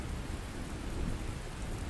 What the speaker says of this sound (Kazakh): Иә, ал жаңбыр қазір қояды, балам.